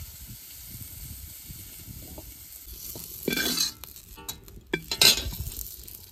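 Fried cauliflower pieces are lifted out of a pan of hot oil, a low steady sizzle with scraping and clinking of a utensil against the pan, growing louder near the end, no talking.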